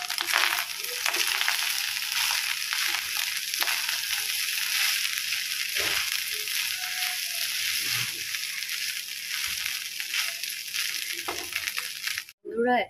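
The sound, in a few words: frying leftover rice with egg and onion in oil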